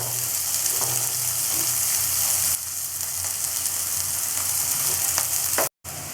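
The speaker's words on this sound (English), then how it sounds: "I am going to add the chopped onion. I will saute the onion." Chopped onion sautéing in a pan, a steady loud sizzle with faint stirring scrapes throughout, briefly cut off near the end.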